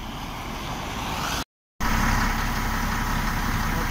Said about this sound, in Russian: сегодня работаем на таком погрузчике Hyundai ZL-25